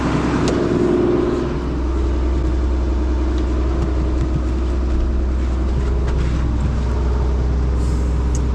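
An Åkerman EC300 30-ton excavator's diesel engine idles loudly and steadily at close range, a deep continuous rumble with no talk.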